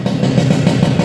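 A Yamaha RX-King motorcycle engine idles nearby with a steady, loud, throbbing putter and a clattery two-stroke rhythm, with no talk over it.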